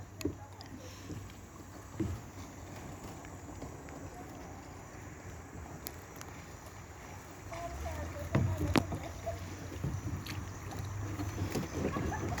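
A kayak moves across water on an outdoor tour, with soft, steady paddle swishes and splashing under a constant wash of ambient noise, growing a little louder near the end.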